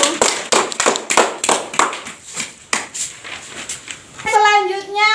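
Children clap for the first group in a primary school lesson on good and bad conduct, a bright patter of claps over about four seconds with some talk mixed in, ending as a voice starts speaking.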